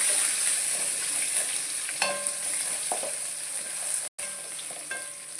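Dried red chilies and garlic fry in hot oil for lemon rice, a steady close sizzle with a few soft clinks of a spoon against the pan and one brief dropout, no voices.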